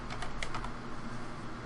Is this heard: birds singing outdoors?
no